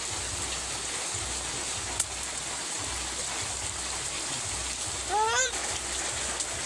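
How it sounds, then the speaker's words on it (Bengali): Water poured into a pan of chicken posto curry makes a steady, even splashing hiss for several seconds, with a brief bird-like chirp near the end. "এবারে আমি দিয়ে দেব জল। আরও একটু জল দিতে হবে।"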